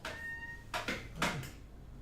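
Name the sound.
cat meowing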